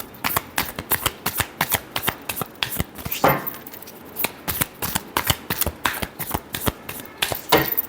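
Tarot cards are shuffled by hand in a fast, even run of crisp riffling slaps, broken by a brief pause and a louder flutter midway before the steady rhythm returns, close and clear with no voices.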